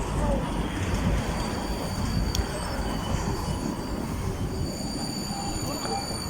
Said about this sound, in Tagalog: Tayo'y sasakay sa ibang train mga kapatid.